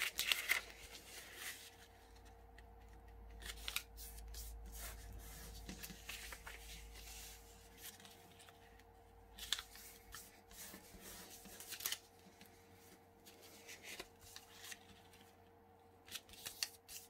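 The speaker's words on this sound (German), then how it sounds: "Jetzt falten wir einen zweiten Brief." Paper rustles and crackles as a sheet is folded into a letter, with soft creasing and sliding sounds recurring in bursts close by, broken by short quiet gaps.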